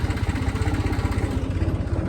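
A tractor engine runs steadily beside the swings at a village fair, a loud, close, throbbing idle with a low rhythmic chug and no talk over it.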